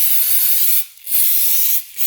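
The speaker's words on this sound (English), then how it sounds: "Spray this down with some brake cleaner." Brake cleaner is sprayed from an aerosol can into a quad bike's big-bore engine case in two close, loud hissing bursts, the first longer, with a brief pause between them.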